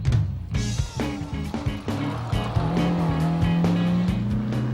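Race cars, including a Porsche, at the TARGA Tasmania rally in 1998 along the D'Entrecasteaux Channel: loud, close engines rev and shift gears in rapid succession, with tyre squeal, as cars power past.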